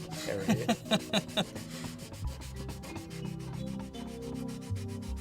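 Rhythmic sanding strokes on a proton pack prop rasp back and forth steadily, with a few sharper scraping bursts at the start, close by with no voices.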